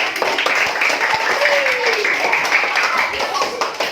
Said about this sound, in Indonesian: Ya kasih tepuk tangan yang benar. Kasih tepuk tangan.